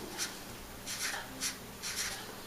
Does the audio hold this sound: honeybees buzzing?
no